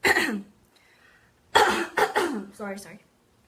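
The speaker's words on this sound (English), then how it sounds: "Sorry for my coughing" A few harsh coughs close to the mic, one burst then a quick cluster of two or three more after a pause, with a throat-clearing rasp at the end.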